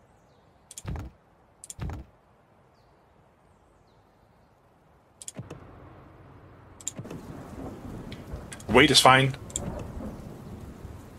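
Thunder and rain from the video game Dustland Delivery: two sharp distant thunder cracks, then a steady rain hiss with a louder rumbling crash near the end. A voice speaks briefly.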